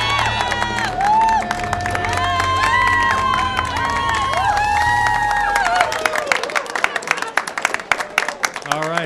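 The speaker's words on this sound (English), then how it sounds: "We've got a great crowd down here at Up Front and Company." Studio audience cheering and clapping as a live show opens, a loud swell of voices and applause that thins into scattered sharp claps near the end, with someone talking over the start.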